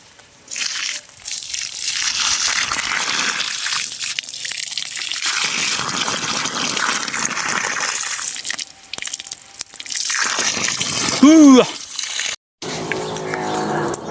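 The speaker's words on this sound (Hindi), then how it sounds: "साथ में बाल्टी भी लेके आया था, तो मैं अब जो है ना दरख्तों को साथ साथ पानी भी दे रहा हूँ।" Water poured from a bucket onto trees outdoors, a long, loud rushing gush broken by short pauses, with a brief voice-like tone near the end and a few other outdoor noises.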